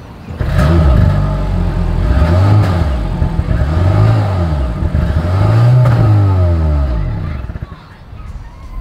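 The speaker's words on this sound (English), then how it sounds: "As always, here is that exhaust clip." Exhaust note of a 2025 Kia Sorento Hybrid car, a steady close engine drone that swells in a few rising, revving sweeps before easing off near the end.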